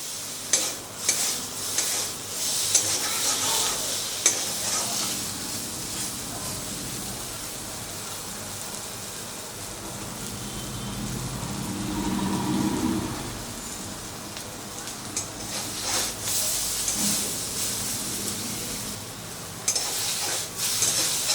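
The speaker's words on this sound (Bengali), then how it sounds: "নাড়াচাড়া করতে করতে দেখুন কত সুন্দর ভাজা হয়ে গেছে।" Pieces of green banana peel are stirred while frying in a pan: a continuous crackling sizzle with frequent scraping and clattering spatula strokes, loud and close throughout with no talking.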